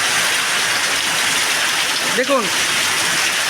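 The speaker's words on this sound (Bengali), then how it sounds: "চরম বৃষ্টি হচ্ছে, সেই বৃষ্টি" Heavy rain pours down in a steady, dense roar with no break, close and loud, while someone says a short word over it.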